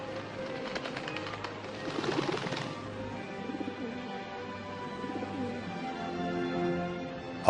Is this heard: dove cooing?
yes